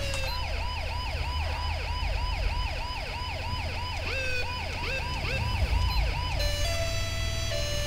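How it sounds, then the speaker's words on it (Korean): A wailing two-tone siren from a Mercedes-Benz Sprinter ambulance in the video game GTA V sweeps up and down repeatedly and steadily, loud over a low engine rumble, shifting pitch near the end. "이게 도대체 어느 사이렌이니까?"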